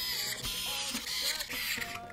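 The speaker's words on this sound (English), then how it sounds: "Screw in all of these screws now." Screws being driven into the mounting frame of a small mini-ITX gaming PC case, a brief burst of close mechanical whirring and metallic ticking with no talk.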